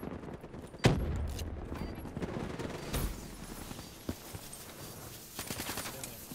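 Automatic gunfire in Call of Duty Black Ops III, a sharp loud burst near the start followed by further scattered shots and rattling bursts at moderate distance, with faint game noise between.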